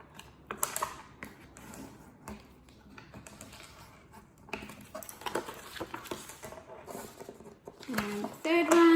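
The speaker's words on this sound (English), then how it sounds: "Flip it over and do a diagonal fold." Paper is being folded diagonally for a squash album, giving close, crisp creasing taps and light rustling in short irregular bursts.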